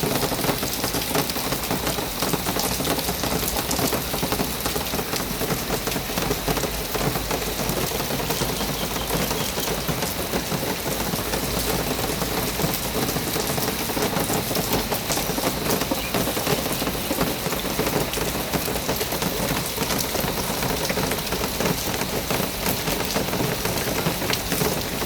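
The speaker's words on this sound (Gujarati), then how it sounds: "પાછળ વરસાદ ફૂલ ચાલુ છે." Heavy monsoon rain pours steadily near a cattle shed in Bharuch, a dense, loud, unbroken hiss of drops on surfaces lasting throughout with no voices.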